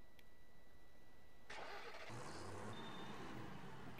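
A tractor engine in Farming Simulator 2015 starts with a starter whine, catches and settles into a steady mid-pitched idle rumble, close and alone.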